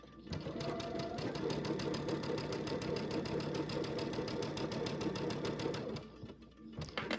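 A sewing machine sews a seam on a butterfly quilt, a fast, even, rhythmic stitching drone up close that runs continuously for about six seconds before stopping briefly and restarting.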